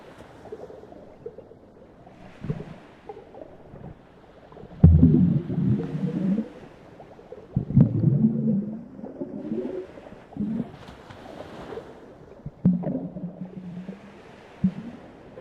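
Low, drawn-out whale calls moan and groan over a hushed underwater backdrop, swelling and fading at irregular intervals.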